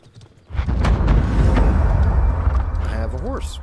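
Hooves of a horse mount in the game Ashes of Creation clop rapidly and loudly after a quiet start, ending with a short whinny, while a voice talks over it.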